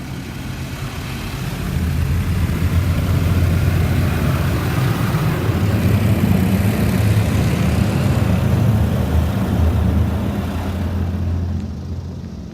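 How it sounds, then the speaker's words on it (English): High-power rinse in a touchless car wash at an Esso/Circle K in Markham, an Oasis XP system: a loud, steady roar of water jets and pump drone that holds evenly, then eases off at the end. "Here comes the high power rinse."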